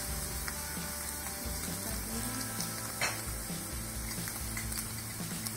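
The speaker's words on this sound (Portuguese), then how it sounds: "O alho já deu uma fritadinha, ó." Garlic fries in a pan with a constant, even sizzle and a faint low hum underneath, close and steady throughout with no talking.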